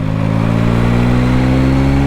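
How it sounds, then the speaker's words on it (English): A 2024 Yamaha XSR900 engine lugging at about 2,000 RPM in sixth gear with the throttle wide open, a steady, loud, low drone with a deep rumbling pulse that holds constant throughout, with no speech. "I was lugging the engine."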